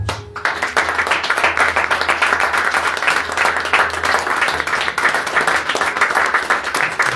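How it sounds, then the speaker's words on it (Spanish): Church congregation clapping in strong, sustained applause during a worship service, dense and close, with a low hum underneath. "Levante un poderoso aplauso."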